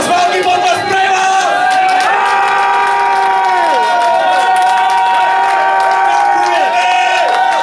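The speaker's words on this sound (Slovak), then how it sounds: "ešte raz veľký potlesk pre vás!" A concert audience cheers and applauds loudly and continuously at a Slovak band's album launch, with sustained musical tones ringing through the crowd noise.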